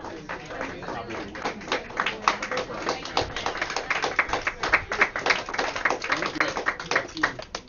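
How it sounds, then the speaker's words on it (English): Steady clapping from spectators at a curling bonspiel as two teams leave the ice, a dense run of quick claps with voices mixed in. "Clapping for the two teams that were in GP just coming off the ice"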